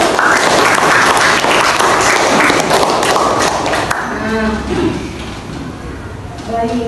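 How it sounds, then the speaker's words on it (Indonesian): A class of students claps briefly in a classroom during a teaching session, the applause fading after a few seconds as a voice begins talking over the room. "tepuk tangan buat kalian semua."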